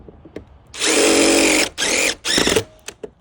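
A power drill drives screws into a gutter guard, with a long loud whir followed by two shorter bursts and light handling clicks in between.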